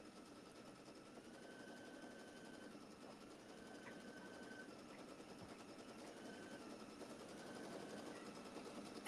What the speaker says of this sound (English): And it's going to join that pattern together. And it's going to stitch out another one.